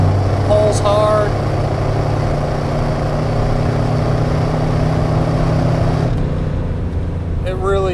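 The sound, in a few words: 1990 Chevrolet 454 SS pickup truck accelerating hard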